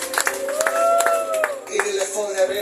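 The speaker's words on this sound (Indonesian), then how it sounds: "Boleh kasih tepuk tangan yang terbaik buat Tuhan kita." Clapping from a church congregation during a worship service, lively and uneven, with a voice singing or speaking over it and sustained tones running underneath.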